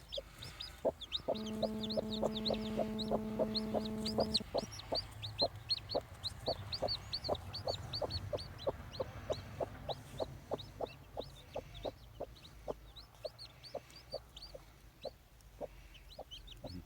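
Turkey hen with newly hatched chicks, a nearby run of high, rapid peeping from the chicks alongside a brief droning hen call and a steady series of low, soft clucks.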